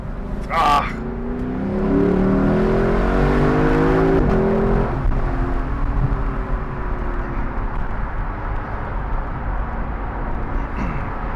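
A 2021 Lexus LC500 convertible accelerates onto the freeway, its engine rising in a long climbing whine and rumble before settling into steady road and wind roar, heard from inside the car.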